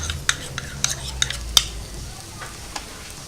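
Garlic and onions fry in a non-stick pan with a soft continuous sizzle, punctuated by several sharp scrapes and clicks of a utensil stirring against the pan, close and fairly quiet.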